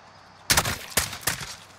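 Three sharp gunshots from a Call of Duty: Modern Warfare campaign firefight, spaced about half a second apart, each loud and close with a brief ringing tail.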